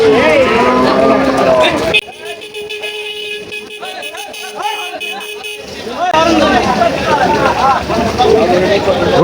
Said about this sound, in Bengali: গরু পাগলামি করছে গাইস আমাদের